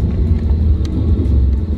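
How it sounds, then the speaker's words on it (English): Cars passing on a road at a red light: a loud, steady low rumble of traffic close by, with no voices. "They're driving by."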